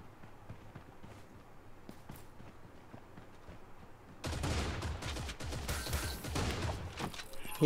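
Gunshots in the Creative Destruction video game start as faint, scattered distant pops, then turn into louder, denser bursts of gunfire, mixed with footstep-like clatter.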